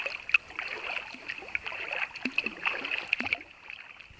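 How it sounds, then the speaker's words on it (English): Kayak paddling on a river in Kangaroo Valley, soft repeated dips and light splashes with gentle water trickle, steady and fairly close, no talking. "So I'm out in the kayak again, but the kayak can handle enough gear"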